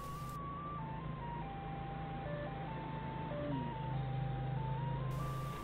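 A forklift reverses onto a road carrying a suspended machine, its electronic reversing alarm playing a looping melodic chime over a steady low engine drone.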